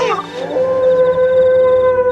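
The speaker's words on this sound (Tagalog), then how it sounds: "Ang mga sigaw ni Aurora ay naging angil hanggang sa naging alulong yun" A dog-like aswang creature in a Filipino horror audio drama lets out a loud, sustained wolf-like howl that holds a steady pitch, preceded by a brief rough snarl.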